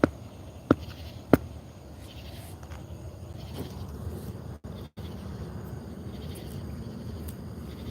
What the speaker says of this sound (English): Oh, that's crickets.